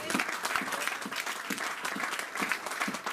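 Church congregation applauding after a sermon, a dense steady wash of many hands clapping throughout, close and fairly loud, with no talk over it.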